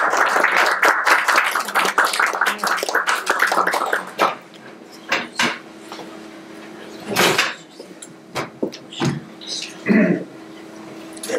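An audience at a talk event claps, with dense applause for about four seconds that thins into scattered, fading claps and some shuffling.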